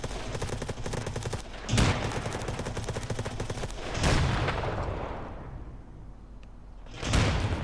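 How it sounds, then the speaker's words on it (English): Gunfire and explosions echo around a combat zone in Escape from Tarkov, with sustained rattling bursts and heavy booms near 2, 4 and 7 seconds, fairly loud and reverberant, with no speech. "I've just consistently heard shots and explosions for the last 3 minutes"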